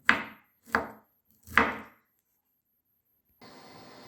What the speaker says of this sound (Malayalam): നമുക്കിത് ചെറുതായിട്ട് ഇങ്ങനെ അരിയണം